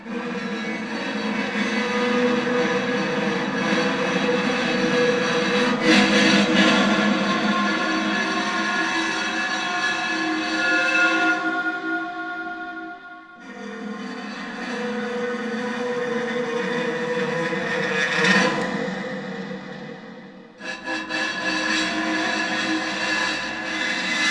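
A homemade three-piece instrument rings out a droning, clashing metallic tone in long sustained dissonant triads, swelling and cutting off a couple of times, harsh throughout.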